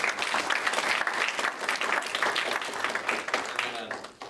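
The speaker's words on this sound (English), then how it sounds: "So join me in a round of applause." A round of applause from the audience at a social gaming panel event, dense sustained clapping that fills the room and tapers off slightly near the end.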